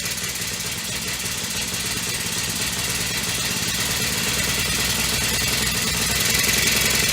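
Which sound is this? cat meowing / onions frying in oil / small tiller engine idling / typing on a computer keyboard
small tiller engine idling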